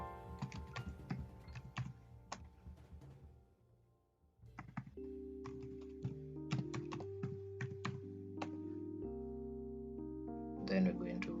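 Quick clusters of computer keyboard keystrokes tapping in short bursts, close and crisp, over steady tonal music with someone talking alongside.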